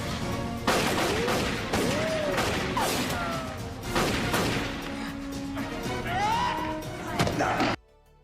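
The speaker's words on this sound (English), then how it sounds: "Eric and Dean fire at each other in open space" Rapid exchange of gunfire between two characters in open space in the 2002 video game Christmas Rush, with loud repeated shots and crashing impacts that run steadily for about eight seconds before cutting off abruptly.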